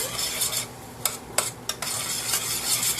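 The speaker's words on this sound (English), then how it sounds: "So let's stir that in." Ingredients being stirred in a pan for Mexican stuffed shells, a steady scraping swirl with a few sharper utensil knocks, close and alone without talk.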